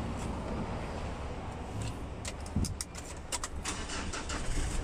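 A 2013 Mitsubishi Triton Plus four-door automatic diesel pickup starts up: a brief crank catches into a steady, noisy engine run, with some light clicking on top.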